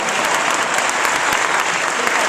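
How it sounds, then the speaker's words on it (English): An audience at a community event bursts into dense, steady applause, many hands clapping loudly and close for the whole stretch. "Please clap for them."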